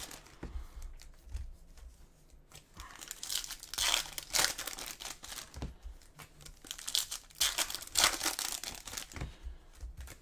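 Topps trading card packs being torn open and handled, a steady run of crisp crinkling and tearing wrapper plastic, close and fairly loud, coming in bursts with short pauses and no talk.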